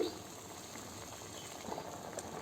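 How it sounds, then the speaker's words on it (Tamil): Egg drop curry bubbling in a pot on the stove, a steady soft simmering hiss and faint popping that stays even throughout, with a voice heard briefly over it. "நல்லா கொதி வரட்டும்."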